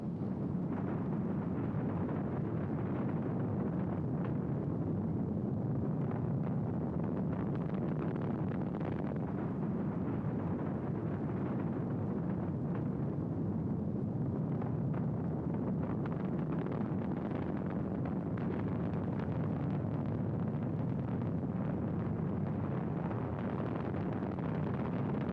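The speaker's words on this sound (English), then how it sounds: "We have ignition sequence start. Engines on, 5, 4, 3, 2, all engines running." A steady, dense low roar from the rocket engines at the Apollo 10 launch, continuous and unbroken throughout with a wind-like rumble and no pauses.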